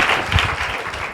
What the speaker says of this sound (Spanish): Aplausos para Virginia.